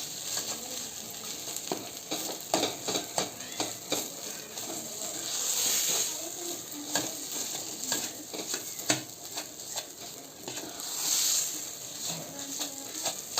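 Potato masala fries in a pan with a steady sizzle while a slotted spoon stirs and scrapes it in repeated clicking strokes, close up, with no talking.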